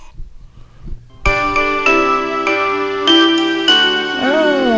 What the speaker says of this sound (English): Info bells.